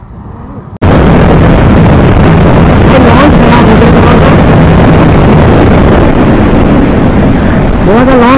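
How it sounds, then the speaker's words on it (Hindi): A Bajaj RS200, a Bajaj NS200 and a Yamaha R15 drag race. A roar of motorcycle engines cuts in suddenly and stays loud and close throughout, heavily buffeted by wind noise, with rising revs audible near the end. "लॉन्च खराब हो गया, बाकी बाइक बहुत अच्छी भाग रही है"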